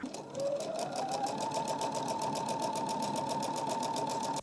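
Sewing machine stitching quilt block seams, a fast, even mechanical whir with rapid needle ticking that runs steadily on its own.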